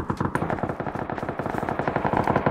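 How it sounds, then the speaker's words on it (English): Dense, rapid machine gun fire from the PUBG video game rattles in continuous overlapping bursts for the whole stretch, loud and close, with no talking. "There's a fuck ton of gunfire back that way."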